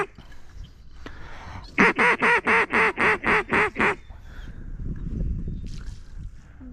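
A run of about eight loud, evenly spaced quacks sounds close by during a public land duck hunt in Arkansas, set against quiet outdoor background before and after.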